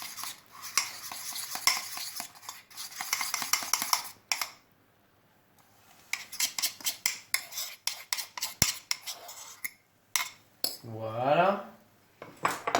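Crêpe batter being poured and spread in a non-stick frying pan, with repeated clinking and scraping of utensils against the pan in bursts, a short quiet gap, then more clattering and a brief whoosh near the end.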